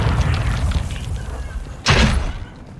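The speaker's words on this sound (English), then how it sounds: "Throwing grenades." A grenade blast in Call of Duty: Warzone, heard as one sudden, loud boom partway through after quieter in-game rumble.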